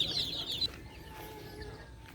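Chickens cluck close by at a backyard farm, with a sharp burst at the start, then quieter low clucking over steady outdoor background noise.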